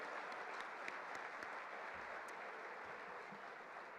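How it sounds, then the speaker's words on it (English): Guests at an annual dinner in the Northern Kentucky Convention Center give the service staff a round of applause: dense, continuous clapping from a large crowd, steady and sustained with no voices over it. "Let's give a round of applause to the incredible service staff here at the Northern Kentucky Convention Center"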